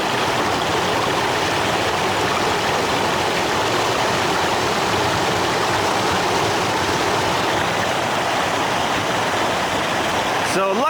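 A loud creek tumbling over many small waterfalls, a steady, broad rush of water close by that fills the whole stretch without a break.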